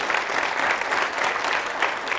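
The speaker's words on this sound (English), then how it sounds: "If we can get a round of applause for Mitch here." Startup week audience giving a speaker a round of applause, dense, steady clapping from a sizable crowd throughout, with no talking.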